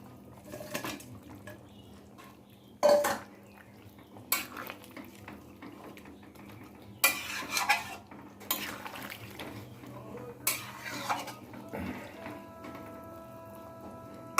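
A spoon scrapes and clanks against a metal pot of katla fish curry with fried fish in uneven bursts, with a low steady hiss underneath and no voices.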